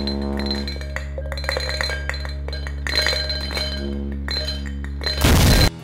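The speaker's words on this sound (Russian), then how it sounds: "Подрубаем все колонки и врубаем звук частотой 70 Гц." JBL speakers driven with a 70 Hz tone give a loud, steady low hum, while objects resting on them rattle and clink like glass in quick irregular bursts, ending in a short harsh buzzing burst.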